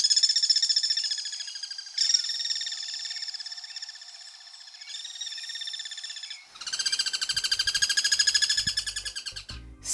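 Shrill, sustained guira cuckoo alarm calls ring out in long overlapping bursts, loud and insistent, followed by a denser chorus of piercing notes.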